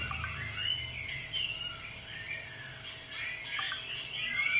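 A female bird in a mating pairing gives its distinctive call, a series of close, high chirps and squawks that rise and fall against a faint steady background hum.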